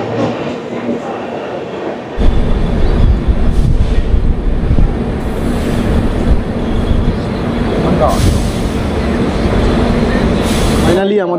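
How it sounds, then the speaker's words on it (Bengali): The 12353 Lalkuan Express pulls out of Durgapur station after a two-minute halt, a low continuous rumble and rattle of the carriages building and rolling on steadily from inside the train. "ফাইনালি 2 মিনিট হল্টের পর আমাদের ট্রেন দুর্গাপুর স্টেশন ছেড়ে বেরোচ্ছে।"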